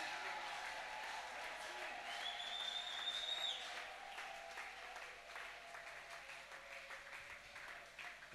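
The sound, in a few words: congregation cheering and applauding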